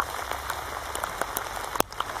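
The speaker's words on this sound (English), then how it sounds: "in a soundscape of clattering rain, clattering rain, clattering rain" Heavy rain clattering steadily in a forest, a dense wash of drops with sharper close splats scattered through it, constant and fairly near with no voices.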